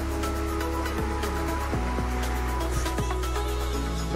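Roaring rush of a waterfall at a hidden forest cascade in Odisha, steady broadband water noise with a low rumble, loud and continuous with no voices.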